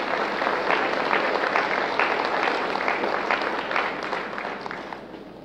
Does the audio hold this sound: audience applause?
yes